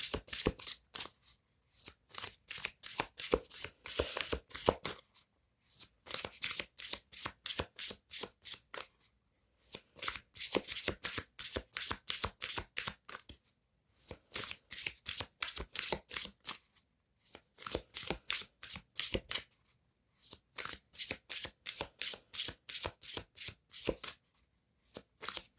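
A deck of oversized cards being shuffled over and over, each round a quick run of crisp riffling flicks broken by short pauses, close and fairly quiet with no talk.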